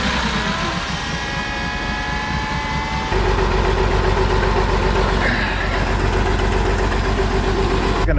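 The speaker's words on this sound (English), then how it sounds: "We're gonna turn the car on to see if fuel leaks out" A Porsche Boxster engine cranks and catches, then settles into a steady, loud idle with a low, even rumble that continues to the end; the car has a suspected fuel leak.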